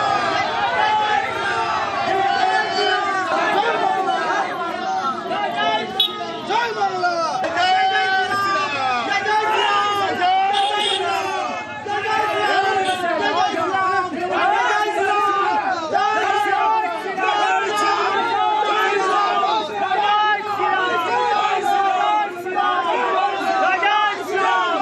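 A dense political rally crowd at a politician's procession in Kotulpur, Bankura, West Bengal, with rival groups chanting opposing slogans back and forth, loud and continuous with overlapping voices and shouting throughout.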